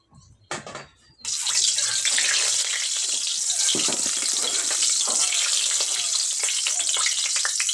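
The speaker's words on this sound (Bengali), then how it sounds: "গরম হয়ে গেছে, এখন আমি দিয়ে দিলাম এর উপর সরষের তেল" Mustard oil poured into a hot pan over a paste of ginger, onion, garlic and green chili gives a loud, steady hiss and sizzle that bursts in after a brief clatter and runs on unbroken.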